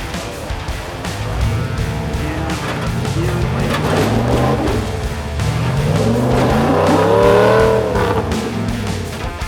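A lifted off-road truck crawling over the rocks at Farmington, its engine revving hard in second gear in low range with a rising and falling growl and some tire scrabble, loud and continuous throughout.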